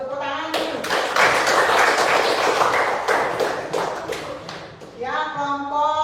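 Students in a classroom clap for presenters after a talk, a burst of loose, uneven handclaps lasting a few seconds between stretches of speech before and after.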